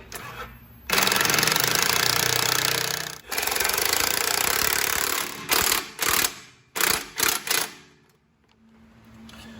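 Nuts are tightened down with a 13mm deep socket during a turbo and exhaust manifold install on a Fiat 500 Abarth: a loud sustained mechanical rattling, then several short sharp bursts before quiet.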